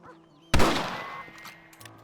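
A single rifle shot in the video game Red Dead Redemption cracks sharply and loudly, then rings out in a fading echo over quiet ambient tones.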